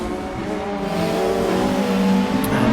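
A Honda Accord touring race car engine in RaceRoom sim racing drones steadily at high revs, a continuous buzzing tone heard from close behind with a faint tire hiss.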